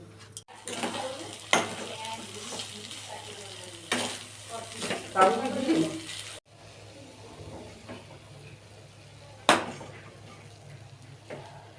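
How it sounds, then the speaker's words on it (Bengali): Chicken cutlet filling cooking in hot oil in a wok, a steady close sizzle broken by repeated scraping and clanking of a spatula against the metal, with short bursts of louder stirring. "কড়াতে তেল দিয়ে এটাকে পুর তৈরি করব।"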